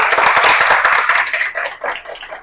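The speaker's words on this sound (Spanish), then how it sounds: "un fuerte aplauso" An audience at a live scientific talk breaks into loud, dense applause that rises fast, then thins into scattered claps as it fades.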